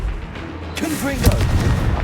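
Confringo fire-blast spell from Hogwarts Legacy gameplay: a loud booming burst cracks in near the middle over a low rumbling background, followed by sustained crackling energy, with a voice shouting over the start.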